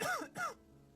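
Someone inside a house gives two quick, fairly close coughs in a row, followed by quiet.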